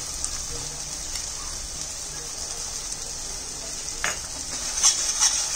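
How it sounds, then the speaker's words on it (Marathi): Masala spices sautéing in a pan for Maharashtrian misal, a steady hiss of frying close by with scraping stirs, and a few louder clinks of the spoon toward the end, no speech. "सर्व मसाला छान परतून घ्यावा मसाला परतत आला आहे"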